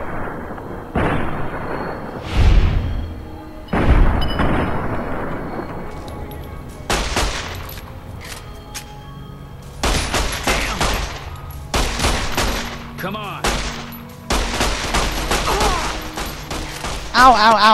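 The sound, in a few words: gunfire in video game Fallout: New Vegas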